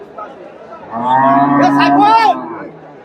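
A dairy cow at a busy cattle market lets out one long, loud moo lasting over a second, rising and falling in pitch, with quieter market background before and after.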